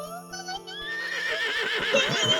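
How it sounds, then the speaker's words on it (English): A horse in a video game lets out a loud, clear whinny that rises and wavers, followed by rhythmic hoof clops underneath. "He's on a horse."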